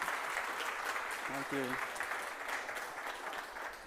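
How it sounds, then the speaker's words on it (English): Applause from a conference audience at a reverse-engineering talk at r2con2024: a continuous wash of clapping, with a short spoken thanks heard over it midway. "Big applause."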